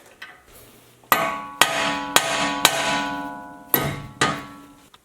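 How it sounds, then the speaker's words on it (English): Six sharp metallic hammer strikes ring out on a steel steering knuckle of a Jeep to release a tie rod end, each leaving a bright ringing tail, spaced about half a second apart. "I'll tap on the knuckle with the hammer, which should release this tie rod end"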